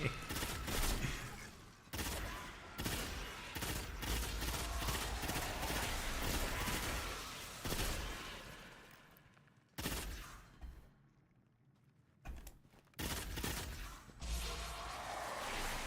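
Rapid bursts of gunfire from the video game Destiny rattle in long volleys, broken by short pauses and a quieter lull, with a faint voice underneath.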